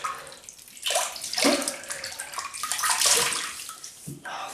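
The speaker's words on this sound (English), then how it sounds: "I'm just going to rinse that now." A razor rinsed under a running tap, with close, splashy water rushing and spattering in uneven surges for several seconds.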